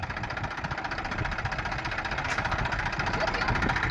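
A tractor engine chugs steadily in a cotton field, its low rhythmic knocking and vibration loud and close, growing slightly stronger toward the end, with no voices over it.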